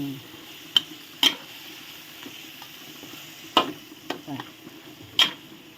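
Curry of chicken in coconut milk with pickled bamboo shoots being stirred and mixed in a pot, with a few sharp utensil knocks against the pot over a low sizzling bed.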